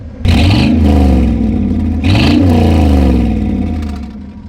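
A car engine treated with liquid head gasket sealant revs hard twice in quick succession, each throttle stab rising to a loud roar and settling back to a steady idle between bursts.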